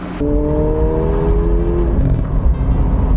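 A McLaren 750S engine revs loud and close, a throaty steady roar with a brief drop in pitch partway through.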